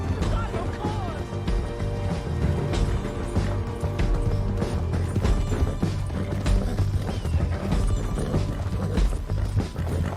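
A horse gallops in Red Dead Redemption II, with a steady drumming of hooves amid loud, dense game noise and crashes, and voices talking over it throughout.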